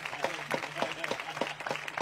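Steady, rhythmic hand clapping in quick, evenly spaced beats from an audience at a Spanish-language presentation, close and continuous.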